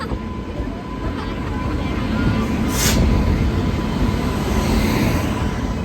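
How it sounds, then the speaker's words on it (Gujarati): A train pulls into a railway station in India, its broad, steady rumble swelling slightly louder midway and holding for the rest of the clip, with faint murmuring beneath. "ફાઇનલી મિત્રો આપણી ટ્રેન આવી ગઈ છે."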